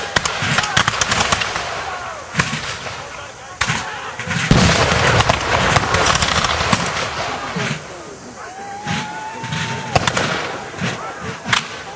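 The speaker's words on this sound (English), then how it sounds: "we have seen the artillery loaded with shell, with an exploding shot" Booming blasts and sharp reports from muzzle-loading artillery firing exploding shell at a historical battle reenactment of the siege of Fort Erie, with several loud irregular bangs over crowd noise and voices talking nearby.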